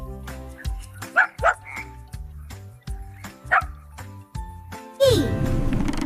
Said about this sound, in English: D for dog. Dog. Woof, woof. Happy dog.